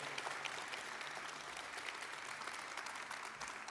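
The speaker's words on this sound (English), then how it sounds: "One more round of applause for all of our nominees in all of these categories today" An awards-show audience gives a steady round of applause for the nominees, even clapping at a distance without letup.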